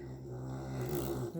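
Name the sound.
snoring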